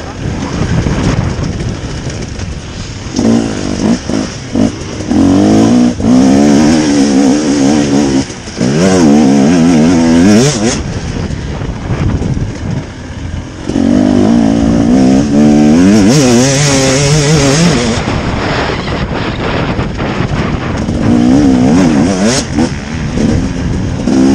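A 2018 Husqvarna motorcycle engine revs loudly while riding, rising and falling in repeated bursts of acceleration with brief dips between pulls, a continuous close buzzing drone.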